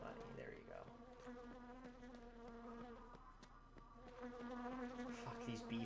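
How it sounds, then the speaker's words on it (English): Continuous buzzing from bee enemies in the Dead Rising 2 video game on PS4, a droning insect hum that holds steady and grows a little louder toward the end, heard without talk. "these bee things are pissing me off because all I hear is zzz the entire time"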